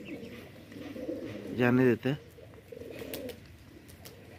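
A pigeon gives one clear, close coo sequence with a short follow-up note, over soft background and someone speaking quietly.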